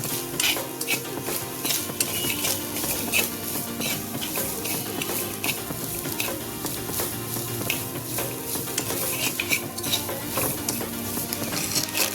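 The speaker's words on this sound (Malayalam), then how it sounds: "ചെറിയ തീയിലിട്ട് തേങ്ങ വറുത്തെടുക്കാം" Continuous dry sizzling and scraping in a pan of coconut roasting in coconut oil over low heat, steady and close with no voices.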